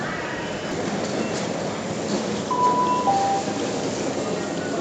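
A train rumbles steadily at Vauxhall station platform in London, a continuous rolling noise with a brief thin wheel squeal partway through.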